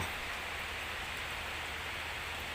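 Steady rain falls outdoors in rural Ubon, Thailand, making a continuous even hiss with no breaks, moderately loud and with no voices.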